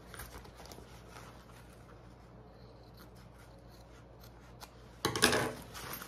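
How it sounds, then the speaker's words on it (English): Scissors cut through layered fabric for a waist pack, trimming it even with a zipper: soft quiet snipping and rubbing for several seconds, then a louder burst of close cutting and handling noise near the end. "I am gonna trim this so it's even with my zipper"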